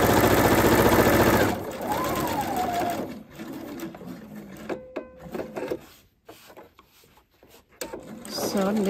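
A sewing machine stitches around the corners of a welt pocket, running loudly at first, then in short, quieter bursts with pauses as the fabric is turned, while a person speaks.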